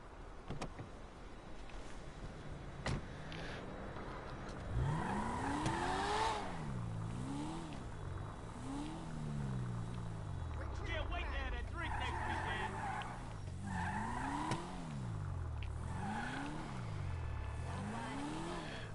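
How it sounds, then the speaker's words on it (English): A stolen car is driven in a video game: a revving engine rises and falls in repeated pitch sweeps, with brief tire squeals, under steady game background noise. "I'm gonna steal his car now."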